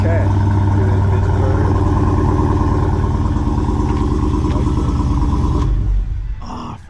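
A Hellcat car engine revs loudly and steadily for several seconds, a rough, throaty rumble close by, then cuts off and fades near the end.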